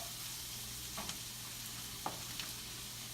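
Lasagna sauce with parsley and Italian seasoning cooking in a pan, a quiet steady sizzle with a few faint scrapes of stirring, no talking.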